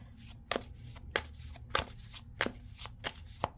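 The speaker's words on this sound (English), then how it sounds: "A little hard to shuffle." A Light Seers Tarot deck being shuffled by hand, with crisp riffling card snaps repeating every half second or so against a low background hum; the shuffling sounds close and slightly stiff.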